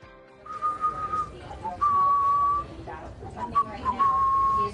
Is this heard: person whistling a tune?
yes